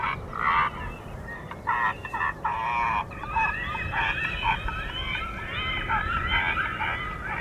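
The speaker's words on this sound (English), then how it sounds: "Predator burst sounds to chase away the local birds." Loud bursts of harsh honking and croaking predator calls from an airport bird-scaring sound board blare in rapid, overlapping waves, continuing steadily with brief gaps.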